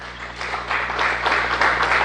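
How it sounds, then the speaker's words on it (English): A round of applause in a recovery team or control room during the Artemis I Orion splashdown, moderate clapping that swells and holds over a low steady hum of room equipment. "to a round of applause."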